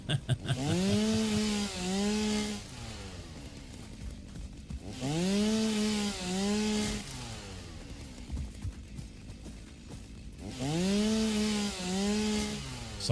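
A chainsaw in a video game revs in three separate bursts of about two seconds each, a buzzing whine that rises and dips in pitch while it cuts wood, with quieter gaps between the bursts.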